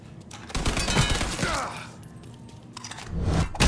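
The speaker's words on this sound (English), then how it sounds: "let's shoot these people up" Gunfire in the crime shooter Mafia 3, a burst of sharp rapid shots up front, a quieter stretch of scraping and rumble, then another loud volley at the end, with someone speaking.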